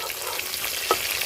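Semolina-coated fish fries in oil over medium heat, a close, steady hissing sizzle with a brief clink partway through, no voices.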